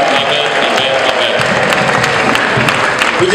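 A church congregation applauds its pastor, dense steady clapping filling the space throughout, loud and close, with a faint voice underneath.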